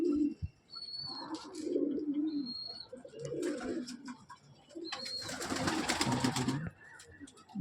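Pigeons kept as pets in a loft coo in low rolling phrases, near and clear, with a few sharp whistles and some rustling between them.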